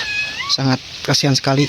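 A cat meows three times in short, fairly loud calls, with a person speaking softly before them.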